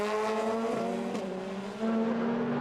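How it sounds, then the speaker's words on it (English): DTM touring race cars from the 2004 season at Adria scream past, high-revving engines whining in steady tones that shift pitch as they go by, with a second car's note swelling in loudly near the end. "Paffett in the black car, Alesi in the silver machine."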